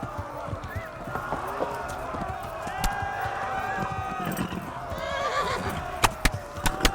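Horses from the game Kingdom Come Deliverance chasing at a gallop: thudding hoofbeats and bursts of whinnying under a steady background, with a few sharp hits near the end.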